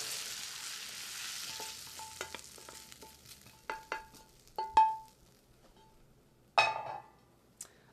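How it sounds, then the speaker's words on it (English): Warmed apples and chestnuts being stirred into bread cubes, with a soft background sizzle and a run of scattered clinks and taps from the spoon against the bowl, growing louder near the end. "I'm going to turn off the heat and stir these into my bread cubes"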